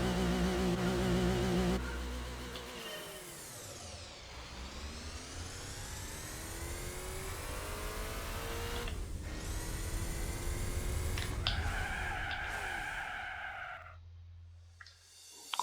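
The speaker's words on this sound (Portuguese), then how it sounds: "Nós vamos de Mitsubishi 3000 GT agora." A Mitsubishi 3000 GT engine in Gran Turismo 4 revs and accelerates continuously, its pitch sweeping up and falling through gear changes, with tyre skids before it winds down near the end.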